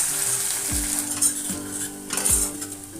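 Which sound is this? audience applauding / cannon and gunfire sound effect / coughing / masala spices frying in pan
masala spices frying in pan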